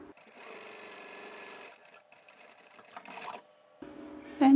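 A sewing machine top stitching a fabric bag closed, running in quick rattling bursts with short pauses between them, close and moderately loud, with no talking over it.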